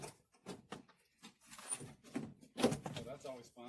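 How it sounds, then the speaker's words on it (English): Trim clips on a 1975-79 Lincoln Continental Town Car door panel pop loose in a few sharp snaps and thuds, close up and interleaved with people talking. "Oh, that's always fun, popping door panels."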